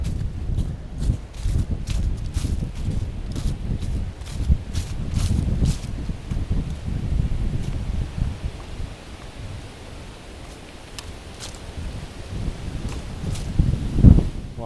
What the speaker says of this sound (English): Wow, this wind is pretty strong now.